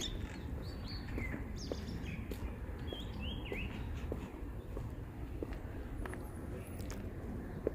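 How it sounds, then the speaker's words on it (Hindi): Birds chirp and tweet in Lodi Garden, Delhi, with short scattered calls, some fairly distinct, over a soft outdoor background hum. "आप देखें सिर्फ पक्षियों के, परिंदों के चहचहाने की आवाज़ है।"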